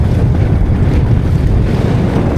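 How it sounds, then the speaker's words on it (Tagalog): Rough sea waves churn around a small fishing boat off Surigao, a steady loud rush of water and wind buffeting the microphone, with no voices. "Oh, grabe mga alon"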